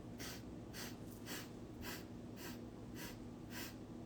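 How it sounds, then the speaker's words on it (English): Seven short, rapid sniffing inhales through the nose in an even rhythm during breathwork, close and quiet, each a brief airy burst, with no talking. "7 short inhales through the nose"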